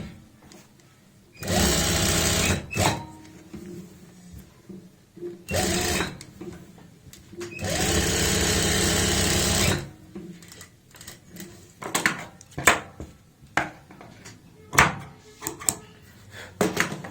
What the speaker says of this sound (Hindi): अब हम इसमें पलट के यहाँ पे सिलाई लगा लेते हैं।